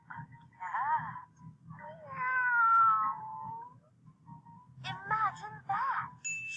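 A cat meows several times, with drawn-out wavering cries and shorter calls separated by pauses, over a low background hum.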